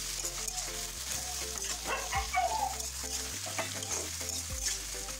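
Vegetables with grated ginger, green chilli and tomato sizzle and crackle in oil in a wok while being stirred, a steady close frying hiss over a low background music bed, no talk.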